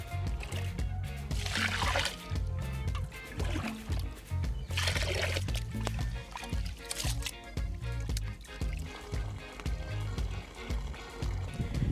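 Water is drained in repeated splashing, pouring bursts from rice soaked with turmeric powder for village-style Chettinad chicken biryani, over a steady low rumbling background.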